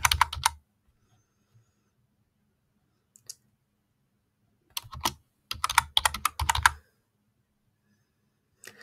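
Typing on a computer keyboard at close range, in short separate bursts of crisp key clicks with silent gaps between them and no voices.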